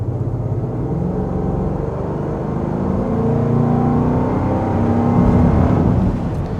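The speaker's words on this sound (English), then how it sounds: "Maybe not too much, but a little bit to hear that exhaust note." A 2025 Land Rover Defender X-Dynamic SE engine revs steadily under acceleration, its exhaust note a continuous low drone that swells slightly toward the end, heard from inside the cabin with no talk.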